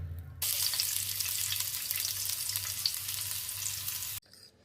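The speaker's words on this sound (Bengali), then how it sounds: "দেশি নুডলসটা রান্না করে দেখি এবার।" Bangladeshi instant noodles cooking in a pan give a steady, close bubbling sizzle that runs for about four seconds before stopping abruptly.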